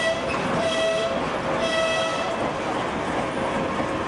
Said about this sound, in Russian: Водяной, так поезд называют железнодорожники.